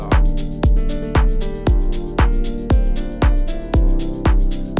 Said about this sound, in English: also I feel like the clap is still kinda too loud.